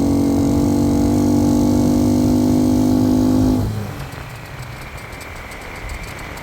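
A used motorcycle engine runs loud and steady in a high gear, then drops sharply to a quieter, rougher idle as the revs fall away.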